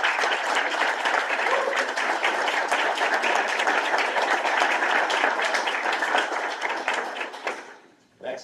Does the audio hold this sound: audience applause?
yes